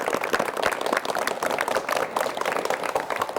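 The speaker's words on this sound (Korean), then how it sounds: "박수로 맞이해 주십시오." A studio audience on a 1986 Korean KBS talk show applauds an elderly guest, steady dense clapping close and continuous throughout, with no talking over it.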